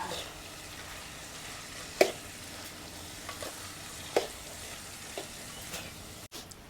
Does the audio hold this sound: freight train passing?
no